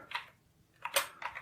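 A command typed on a Sinclair QL keyboard: a few quiet, close keystroke clicks, one short tap followed after a pause by a quick cluster of two or three clicks.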